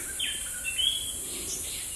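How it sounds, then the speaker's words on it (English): Birds calling in the savannah on Mount Cameroon: a few thin, high chirps and whistled call notes over a steady, hissing insect-like background, fairly faint and unhurried. "The savannah was alive with the sound of birds calling"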